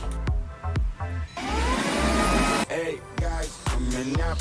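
A robot vacuum cleaner runs with a steady mechanical whirring hum for a few seconds, broken by short bursts of speech before and after.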